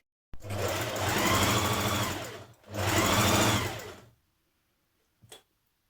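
A sewing machine stitches a seam on a Joni stretch-knit dress in two steady whirring runs of about two seconds each, separated by a short pause, then stops with one brief click near the end. Loud and close, with no talking.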